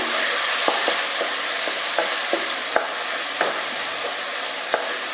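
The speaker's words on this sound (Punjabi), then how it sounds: "ਕੁਝ ਦੇਰ ਆਪਾਂ ਟਮਾਟਰ ਨੂੰ ਪਾ ਕੇ ਵੀ ਇਹਦੇ ਵਿੱਚ ਭੁੰਨਾਂਗੇ" Finely chopped tomatoes and onions frying in a pan for an apple curry, a constant close sizzle broken by repeated scraping stirs and light clacks of a spoon against the pan, no voices.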